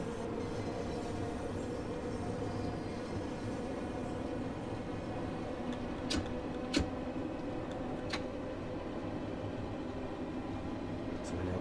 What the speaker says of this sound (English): I'm just going to shut off the power and allow the train to coast.